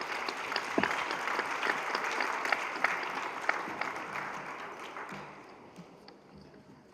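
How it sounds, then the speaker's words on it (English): Steady applause from a crowd, dense clapping throughout with a few sharper claps standing out, gradually thinning toward the end. "So give our law enforcement executives a round of applause."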